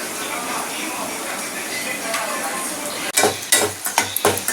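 Chopped onions sauté in a pan with a continuous sizzle and steady frying hiss, then a spoon stirs and clanks against the pan in several close knocks, while a person talks over the cooking.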